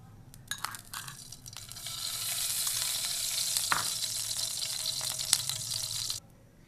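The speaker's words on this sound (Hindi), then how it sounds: "मैंने एक पैन लिया है, इसमें मैं घी डाल दूंगी।" Ghee heats in a pan for semolina gulab jamun. A few metallic clinks come first, then a steady close sizzle swells and holds before cutting off near the end.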